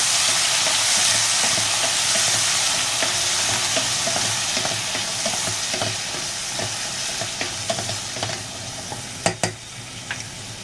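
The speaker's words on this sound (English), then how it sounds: "Now I'm going to throw in this chana. We're going to mix it all in." Black chickpeas (chana) are stirred into garlic frying in a pan. A steady, loud sizzle runs throughout, with scraping stir strokes and a few sharp clinks near the end.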